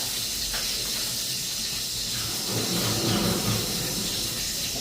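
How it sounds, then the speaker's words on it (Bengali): Bay leaves and cumin seeds sizzling in hot oil, a steady broadband hiss that stays fairly even throughout, with a slight swell near the middle; no talking. "তেজপাতা নিলাম তেজপাতা জিরা ফোড়ন দিলাম"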